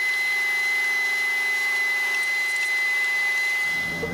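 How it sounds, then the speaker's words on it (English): A vacuum runs steadily around the crumbling windshield opening of an old car with a rope-in windshield, a close, constant motor whine with a high tonal hum that cuts off near the end. "Gonna have to do a little vacuuming on this one."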